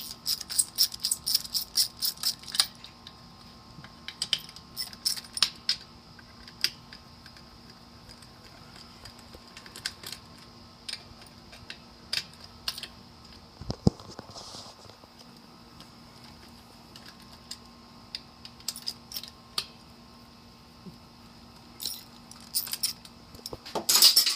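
Socket wrench loosening the four cylinder head screws on a Craftsman oil-free air compressor pump during a rebuild, heard as faint, scattered metallic clicks and light rattles with a short burst of louder ratcheting midway.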